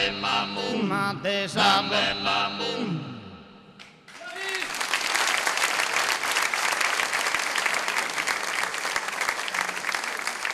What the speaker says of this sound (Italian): io farei ancora un applauso ai ragazzi